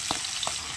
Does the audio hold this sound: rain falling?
no